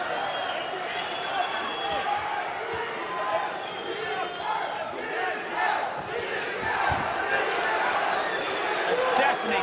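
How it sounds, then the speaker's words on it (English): A loud, roaring crowd fills a kickboxing arena during a quarterfinal bout, sustained and surging in waves with shouts and cheers, while a commentator talks over the din. "A deafening crowd here."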